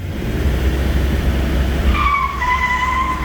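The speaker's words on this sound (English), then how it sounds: "We're gonna test it out for the reverse burnout." A 1994 Toyota 4Runner 4x4 doing a reverse burnout, with a loud, steady engine roar and tire skid that turns into a sustained high tire squeal partway through. No one speaks.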